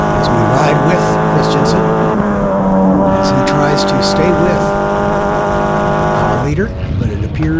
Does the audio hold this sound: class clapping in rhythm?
no